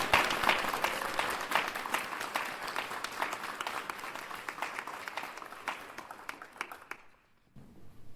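An audience claps for a speaker at a community conversation event, steady applause of many hands that thins out and fades to quiet near the end.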